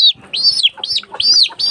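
An incubator-hatched chick about twenty days old chirps loudly and close, four or five sharp high peeps in quick succession with brief gaps between them.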